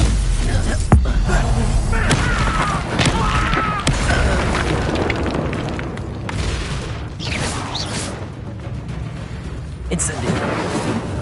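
Stupefy spell fired in the video game Hogwarts Legacy, a heavy booming impact with thuds and crashes amid ongoing combat effects and clatter.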